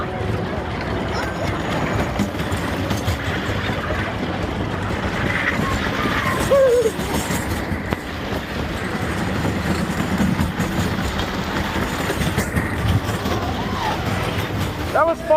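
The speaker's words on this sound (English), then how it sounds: "Nice old smooth wooden roller coaster." A ride on the Giant Dipper, a 101-year-old wooden roller coaster in San Diego, rumbles and clatters steadily over the track, with riders' voices and shouts mixed in.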